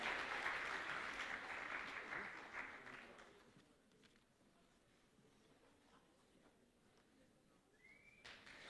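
Audience applause at a cosplay contest on stage at the Swiss Fantasy Show, a dense wash of clapping that fades after about three seconds into sparse scattered claps and low murmur.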